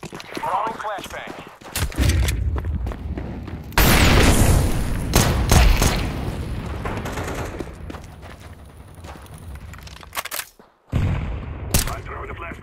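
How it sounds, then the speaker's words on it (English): A flashbang grenade goes off in Counter-Strike 2 with a sharp, loud burst of noise, set among repeated gunfire and booms, with game sounds continuing afterward. "Throwing flashbang."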